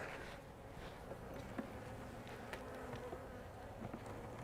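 Honey bees buzz in an opened hive box during an inspection of an overwintered nuc, a dense, constant close drone with small crackles of frames and handling mixed in.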